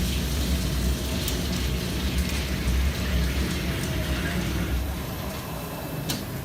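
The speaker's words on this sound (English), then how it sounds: "here we're going to be plunging through this steel, 2 inches deep, inch and 11/32 hole" A FlexCNC G Series machine at the EASTEC 2019 trade show plunges a 2-inch-deep, 1 11/32-inch hole into steel with high-pressure through-spindle coolant, making a loud, dense, steady grinding rumble with faint ticks.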